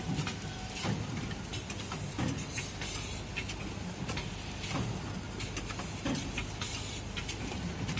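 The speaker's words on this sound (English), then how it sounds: "This machine is designed for 114mm wooden ice cream sticks." A wooden ice cream stick bundling machine for 114mm sticks runs steadily and loud, with continuous mechanical whirring and hiss broken by regular clattering knocks roughly every second or so, no talk.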